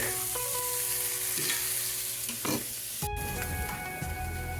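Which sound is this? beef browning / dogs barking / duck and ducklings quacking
beef browning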